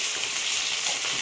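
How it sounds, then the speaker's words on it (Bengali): Onion, chilli and tomato frying in a home kitchen pan, a steady bright sizzle that holds at an even level the whole time, with no voices over it. "কুচি, লঙ্কা আর টমেটো ভেজে নিচ্ছে।"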